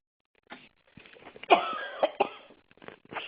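A person coughs several times in short, rough bursts, close and fairly clear, with brief throat-clearing between.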